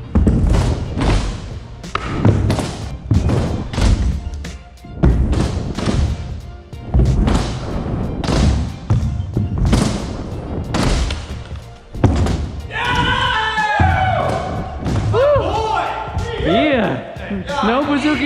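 Scooter tricks at an outdoor skatepark: repeated hard thumps and clattering landings in quick succession, with people talking and cheering loudly over them, then bright excited shouts toward the end.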